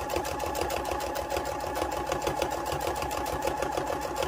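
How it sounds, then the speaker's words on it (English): A home sewing machine runs a quarter-inch seam on a fabric stuffed moose, a steady rapid chatter of needle strokes heard close and alone throughout. "So now I'm just going to sew about 1/4 inch"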